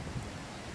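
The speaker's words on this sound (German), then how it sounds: "wenn der Wind weniger gewesen wäre" Outdoor wind buffets a microphone in a brief, low, steady rumble of noise with no other sounds.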